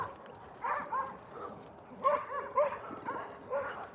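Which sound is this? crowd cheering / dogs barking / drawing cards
dogs barking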